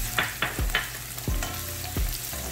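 White parts of green onion stir-fry on high heat for chicken chow mein, a loud sizzle broken by several sharp tossing and scraping strokes of a spatula in the wok, close by, with no voices.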